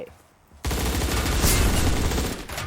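Gunfire erupts in the online shooter game surviv.io. After a brief quiet start, a loud, dense automatic burst runs continuously to the end.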